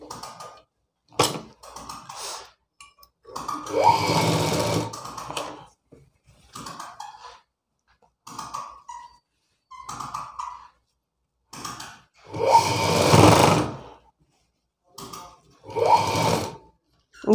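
A sewing machine stitches blouse fabric in several separate bursts of whirring, some short and some running a couple of seconds, with quiet gaps and small handling clicks between runs.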